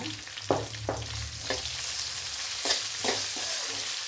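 Hot oil sizzles steadily as small chillies sauté in a pan for mango rice, with soft scrapes and taps of a spoon stirring at intervals.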